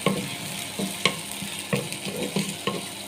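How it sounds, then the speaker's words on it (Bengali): Sliced onions frying in about three spoons of oil for a chickpea dish, a close sizzle punctuated by regular spatula stirs and scrapes roughly every two-thirds of a second, no voices. "এখানে আমি 3 চামচ পরিমাণ তেল দিয়ে দিয়েছি আর পেঁয়াজ দিয়ে দিয়েছি।"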